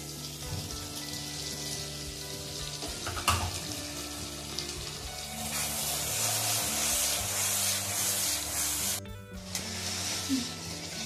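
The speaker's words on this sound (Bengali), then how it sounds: "মশলাটা আমার ততক্ষণ পর্যন্ত ভাজতে হবে যতক্ষণ না এর থেকে কাঁচা গন্ধ চলে যায়" Spice masala with tomato paste frying in a pan for restaurant-style paneer masala, giving a steady, even sizzling hiss under background music for the whole stretch.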